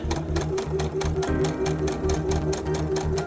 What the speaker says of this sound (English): when you're sewing onto a point, that you give your feed dogs something to grab onto